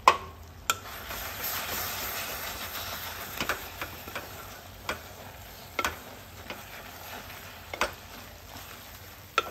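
A spoon stirs gongura leaves and dried prawns in a frying pan. Soft sizzling runs under a slow series of sharp scraping strokes against the pan, up close, with no talking.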